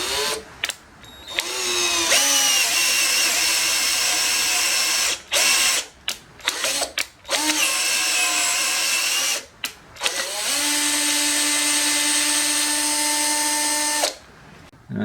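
A Taurus LD battery drill taps threads into a steel tool post holder, its motor whining in long loud runs broken by brief stops, the pitch sagging under load and rising again, with ratcheting clicks near the start.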